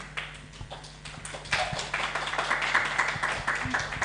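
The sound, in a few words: audience applause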